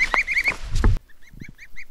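Geese on a homestead honk in a quick run of loud, nasal calls close by, followed by a softer series of rhythmic honks at a slightly greater distance.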